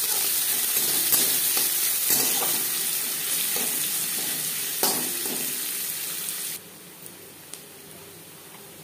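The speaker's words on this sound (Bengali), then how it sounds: "জিরে ভেজে নেওয়ার পর দিয়ে দেবো পেঁয়াজ কুচি" Chopped onions hit a pan of hot oil and cumin, raising a loud, dense, steady sizzle close by that drops sharply to a quieter hiss toward the end.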